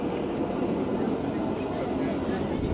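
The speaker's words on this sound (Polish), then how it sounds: "przygodę z budapeską komunikacją zaczniemy od tramwaju" Riding a tram in Budapest, a steady loud rolling rumble of the car on the rails, with a muffled undertone of voices in the background.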